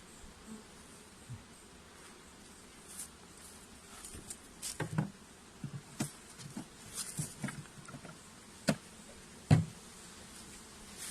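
Honeybees buzzing around hives while varroa treatment strips are installed, a faint close hum broken by sharp passing buzzes and soft knocks, with no talking.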